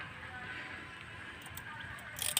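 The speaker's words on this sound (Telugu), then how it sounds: "వర్షం వస్తుంది ఫ్రెండ్స్" Light rain patters outdoors on a farm with a drip irrigation system, a soft continuous hiss with a few sharper crackling ticks near the end.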